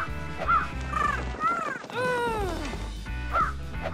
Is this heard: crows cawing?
yes